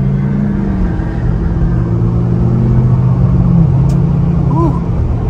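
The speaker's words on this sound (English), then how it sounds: "taking a step out here on this regular pavement, about half throttle" 2024 Jeep Wrangler Sahara accelerating at about half throttle on regular pavement, heard from inside as a loud, close engine rumble with the pitch climbing and dropping between gears, plus road and wind noise.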